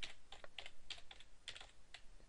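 Quick typing on a computer keyboard to enter a password, a short burst of light, uneven clicking keystrokes heard close and fairly quiet.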